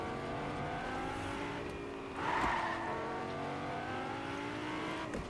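A game car drives along with a steady engine drone whose pitch glides up and down between gear changes, plus a brief louder swell partway through.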